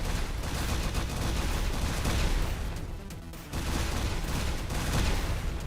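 Dense, continuous explosions and rapid gunfire-like blasts fill the GFL2 Exilium Aphelion mini game, a steady loud barrage with a brief dip midway and no talking.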